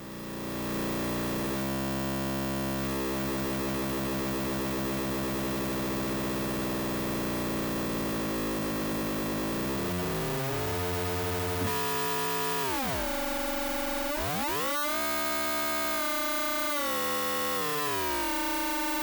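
An AE Modular synth's XOR logic output gives a gnarly, buzzing tone like an overdriven guitar. It's loud and continuous, with dense harmonics and pitch that sweeps and warbles in the second half.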